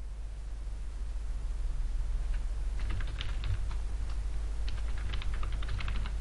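Computer keyboard keys tapped in short irregular bursts while an email address is entered, clicks fairly close and crisp over a steady low hum, no talking.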